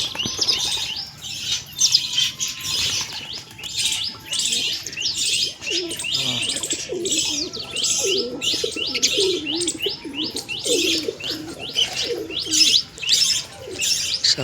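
White pigeons in a loft near their eggs keep up a steady mix of soft cooing and busy chirping, close and continuous, with occasional wing rustles and no talking.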